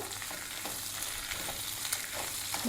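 Two large onions and chopped green chilies frying for a chicken curry, a steady close sizzle with soft stirring scrapes and no voices.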